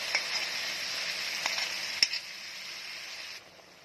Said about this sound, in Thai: พอหอมได้ที่แล้วนะครับ ใส่หมูสับลงไปเลยครับ